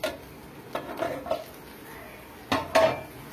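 Metal pot lid lifted off a pot of brinjal curry, a few close clinks and clatters of metal on metal in short bursts, with quiet gaps between.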